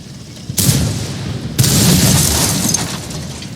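A tank gun fires in a Teenage Mutant Ninja Turtles video game: two heavy, booming blasts about a second apart, each followed by a rumbling, sustained roar of explosion noise.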